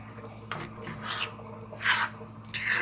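A utensil scraping thick pumpkin oatmeal off the bottom of a cooking pan: several short, soft rasping strokes at close range, with faint background hum.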